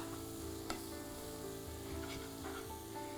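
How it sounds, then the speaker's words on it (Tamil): Chicken with chilli, coriander and turmeric powders sautés in oil over low heat, giving a steady close sizzle with a few scraping stirs of a spoon through the pan and no voices. "சிம்மில் வச்சுட்டு நல்லா அந்த எண்ணெயில் கோட் ஆகிற அளவுக்கு நல்லா வதக்கிக்கோங்க"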